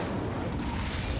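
Incendio fire spell cast in Hogwarts Legacy, a dense, steady burst of roaring, crackling fiery noise that fills the whole short moment at an even, loud level with no speech over it.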